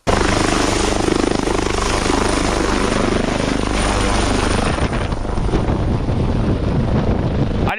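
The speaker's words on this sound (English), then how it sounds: "donc il faut venir le chercher en hélico là." Helicopter flying on a mountain rescue after an avalanche, its rotor and engine roaring loud and close throughout, with a steady chopping pulse and heavy wind buffeting.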